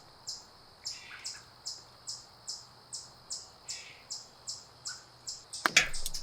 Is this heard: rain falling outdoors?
no